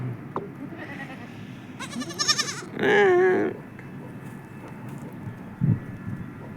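A goat gives a couple of loud wavering bleats near the middle, standing out over quiet outdoor background.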